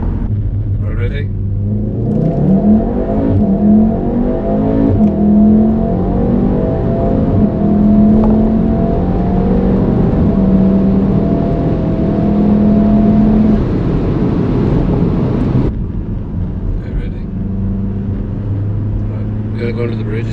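Engine note of a VW Golf R Mk7.5 fitted with a new air intake and turbo elbow, droning and swelling through rising revs on a drive under a bridge, steady and close for most of the run before dropping away, with people talking over it.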